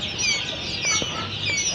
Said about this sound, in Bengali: আপনারা দেখতে পাচ্ছেন জিরো কোয়েল পাখির বাচ্চা।